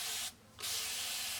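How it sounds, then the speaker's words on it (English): Water misted onto hair from a spray bottle during a wash-and-go styling routine, two close, loud hissing bursts separated by a short pause. "Don't be afraid to go back in and spray some more if you feel necessary."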